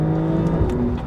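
Base Porsche 992 Carrera, 379 horsepower, pulling hard in a launch-control start, its engine note a loud, steady, rising roar held throughout the short burst with no talk over it.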